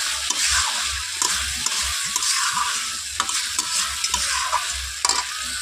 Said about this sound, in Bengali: মশলা কষে নিয়ে এখন আমি আলু দিয়ে দিয়েছি।